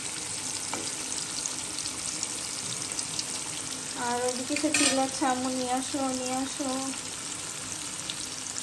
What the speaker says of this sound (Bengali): আজকে ভাবলাম যে একটু গোল গোল করে ভাজি, চিপসের মতো করে